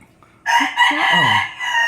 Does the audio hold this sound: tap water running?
no